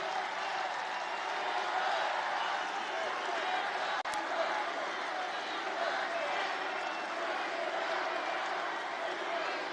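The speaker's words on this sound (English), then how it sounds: "It's a big crowd of people." A large rally crowd fills a venue with a steady, sustained roar of cheering and clapping, an even wash of massed voices and hands heard from within the hall, with one sharp click partway through.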